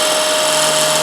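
A skew chisel cuts wood spinning on a lathe, making a steady, loud, high whirring and scraping tone with a constant pitched hum, continuous and close for about a second without talking.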